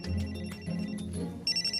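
A mobile phone rings in a cartoon scene, a bright electronic ringtone with repeating tones, then a sharper, higher burst near the end, fairly close and clear over a low music bed.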